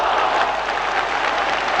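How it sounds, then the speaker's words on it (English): Stadium football crowd bursting into applause after a shot, dense broadband clapping filling the whole brief moment, loud and steady. "No wonder the crowd applauded."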